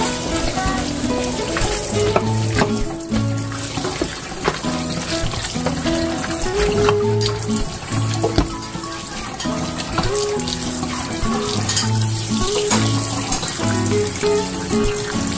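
Warm tap water runs and splashes over beef innards such as flank and honeycomb tripe being washed in a sink, a steady rushing stream with some rhythmic background sound underneath.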